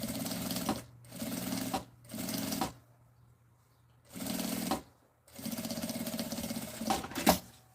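A sewing machine stitches a fabric bag lining in several short bursts separated by brief pauses, close up and clear.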